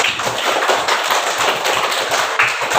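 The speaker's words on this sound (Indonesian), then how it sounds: "Tepuk tangan dulu" Schoolchildren in a classroom applaud group 4, a dense, steady patter of many small hands clapping close by with no pauses.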